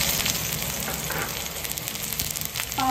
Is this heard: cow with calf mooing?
no